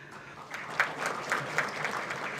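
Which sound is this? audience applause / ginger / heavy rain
audience applause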